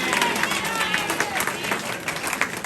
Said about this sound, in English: You guys all deserve a round of applause.